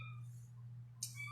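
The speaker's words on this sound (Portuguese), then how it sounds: "Só um instante que o gato aqui está dando um pouco de problema." A house cat gives a short meow against a steady low indoor hum, with a brighter brief cry near the end, heard fairly faintly and with no talking.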